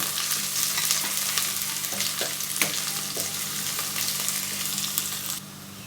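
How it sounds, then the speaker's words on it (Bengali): Chopped onion frying in a pan while being stirred: a steady sizzle with repeated spatula scrapes and knocks, then a sudden drop in level near the end. "পেঁয়াজটা একটু ভেজে নেব"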